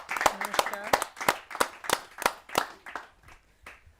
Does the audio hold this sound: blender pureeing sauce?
no